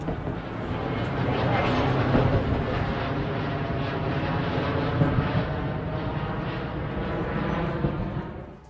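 A passenger airliner climbing out of Rome, Italy, after a bird strike set it on fire, producing a steady, loud broadband engine roar throughout, with a voice talking over it.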